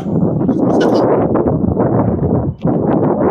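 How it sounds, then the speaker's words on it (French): Strong wind buffets an outdoor microphone in a steady, loud low roar, with a brief dip near the end before the rumble returns. "il y a fort vent ici"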